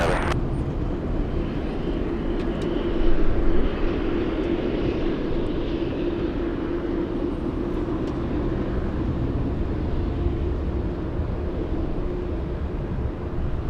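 Steady, continuous roar of a heavy Boeing 747 airliner on the runway at LAX, a broad low rumble holding at a constant level throughout with a slight swell early on, heard from a distance with no talking.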